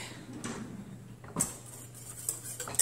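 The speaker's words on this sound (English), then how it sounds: "let's get out a whisk" Metal kitchen utensils clink and rattle as a whisk is pulled out from among them, a couple of brief bright clatters over a low steady background hum, fairly close and quiet.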